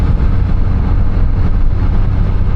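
A Triumph Street Triple 765 RS motorcycle on the move, a loud steady low engine drone mixed with wind rush, continuous and close throughout.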